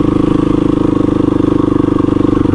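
A dual sport motorcycle rides steadily with a loud, close, even engine drone and a rapid regular pulsing throb, no other sounds standing out.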